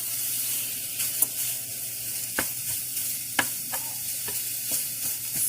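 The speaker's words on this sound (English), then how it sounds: "getting this sausage nice and browned" Sausage browns in a hot pan for homemade biscuits and sausage gravy, a steady close sizzle with a few sharp taps and scrapes from stirring.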